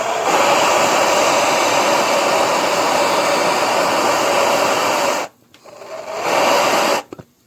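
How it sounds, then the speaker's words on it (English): A blowtorch on full blasts a chocolate-covered ant, a loud steady roaring hiss for about five seconds, then cuts out briefly and flares again before stopping. "Now I'm going to see what happens if I hit this ant with the blowtorch on full."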